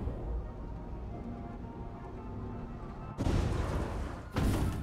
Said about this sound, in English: We're gonna go play some shooting games